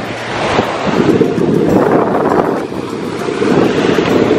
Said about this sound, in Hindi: हवा चली हुई है तो मज़ा आएगा।